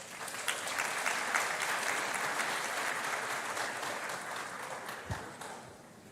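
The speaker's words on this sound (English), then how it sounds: "A round of applause." Steady applause from a large audience at a university graduation ceremony for agriculture and natural resources graduates, sustained clapping filling the hall for several seconds before slowly easing off.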